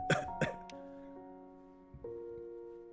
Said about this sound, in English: Sorry, just a little cough.